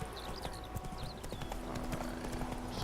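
Horse hooves clip-clop in a steady walking rhythm in The Witcher video game, close and fairly quiet, over faint background game ambience with a few high chirps and no talk.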